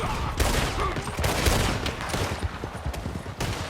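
Gunfire in the Red Dead Redemption 2 video game, a dense fusillade of repeated shots and volleys at close to mid distance, rapid irregular bursts throughout with no speech.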